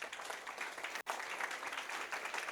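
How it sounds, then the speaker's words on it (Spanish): Conference audience applauding after a reading at a human rights event on indigenous and Afro-descendant peoples; steady, moderately distant clapping that cuts out abruptly for an instant before resuming. "Un aplauso, por favor."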